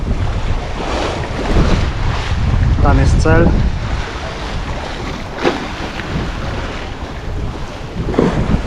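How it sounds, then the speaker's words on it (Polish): Steady wind noise and surging waves fill the scene as a sailing boat moves through the water off Saint-Pierre in the morning, with brief speech partway through. "No i właśnie dostaliśmy wiatr i znowu płyniemy."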